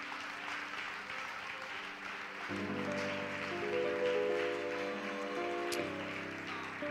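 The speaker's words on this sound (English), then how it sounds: "Would you clap your hands and give him praise one more time?" A church congregation claps their hands in praise during a service, a dense steady applause that continues as sustained organ or keyboard chords swell in beneath it.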